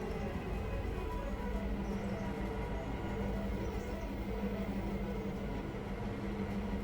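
A train coasting in a railroad video game makes a steady low rumble with a faint hum and light rattle, even and continuous at moderate loudness, with no talk.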